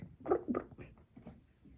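Small kitten giving a few short, high squeaks close by, faint and soft, with quiet purring-like murmurs between them.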